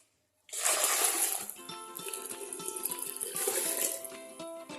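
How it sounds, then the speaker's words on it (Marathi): Water poured from a one-litre metal pot into a pressure cooker as wheat kheer is prepared, a steady close splashing gush that starts abruptly after a brief silence and continues with metallic ringing throughout. "मी याच्यामध्ये 2 तांबे पाणी घालणार आहे, म्हणजे 2 लिटर पाणी होतं."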